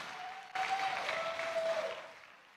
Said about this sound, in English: Can we give our panelists another round of applause?